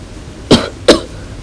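A woman gives two short, sharp coughs about a third of a second apart, close and loud against a quiet background.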